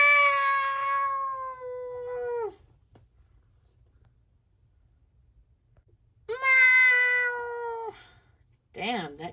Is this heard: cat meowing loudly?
yes